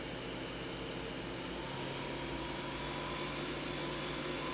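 Yama Seiki GA-2000 CNC turning center spindle whirring at high speed, a loud, steady broadband whine with sustained tonal lines and no talk.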